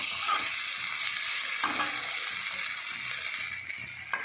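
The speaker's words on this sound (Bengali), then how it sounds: "আমি এবার জল ঢেলে দেবো।" Water goes into a sizzling banana stem and potato curry, producing a steady hissing rush with a couple of soft knocks against the pan.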